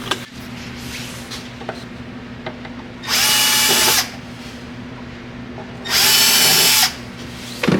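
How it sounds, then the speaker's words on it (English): A power drill boring holes to mount a bracket for a Land Rover LR3 iPod and Bluetooth retrofit, with two separate loud bursts of roughly a second each against a quiet background. "Drilled some holes on there to mount this bracket"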